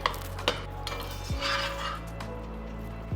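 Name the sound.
stirring and mashing yam while sautéing in a pan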